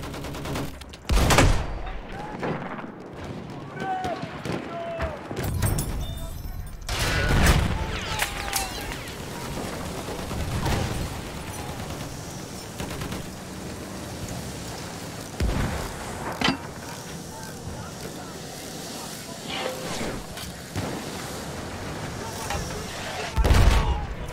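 Mortar blasts and gunfire in the WWI shooter Battlefield 1 with a mortar landship: sharp shots and heavy booms burst irregularly, some close and loud, others more distant, over constant battle noise.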